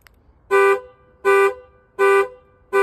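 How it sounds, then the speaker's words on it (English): A 2014 Ford Explorer panic alarm blasts its horn in a steady rhythm, four loud, close honks of about a quarter second each, separated by short silences. "I'm gonna get a video of this Ford 2014 Ford Explorer, the panic alarm."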